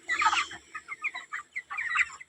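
Close chickens let out a loud squawk, then a quick run of short rhythmic clucks, then another louder burst at the end.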